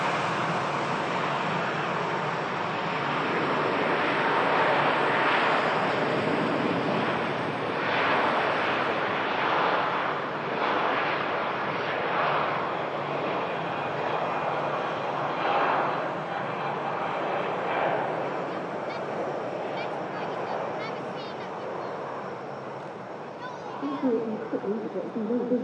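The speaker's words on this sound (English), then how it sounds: "Virgin Atlantic for Las Vegas now on the takeoff roll." A Virgin Atlantic airliner bound for Las Vegas roars down the runway on its takeoff roll, a broad, sustained engine rumble that builds and holds strong before slowly easing away near the end.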